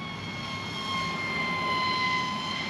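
A small sub-250 g DIY RC plane on a 3S 850 mAh battery flies past on a gusty day, its electric motor a steady high-pitched whine that swells slightly and stays constant, with wind noise underneath and no talk.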